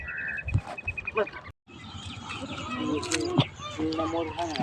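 Cattle sounds on a dairy farm after milking, mixed with people talking and birds chirping, including a low moo among the busy farmyard noise.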